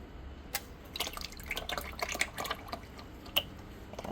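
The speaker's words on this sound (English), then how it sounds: "there's gonna be some more oil in there. So just dump that out" Leftover engine oil drips and trickles out of a removed Infiniti G35 sedan oil pan, with scattered close-up splashes and patters over a low background hum.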